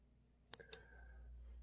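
Two sharp clicks from typing on a computer keyboard, close and fairly quiet, with a faint hum trailing after in an otherwise quiet room.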